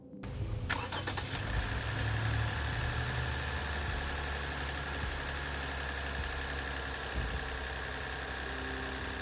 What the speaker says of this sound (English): Start the engine and wait 10 minutes.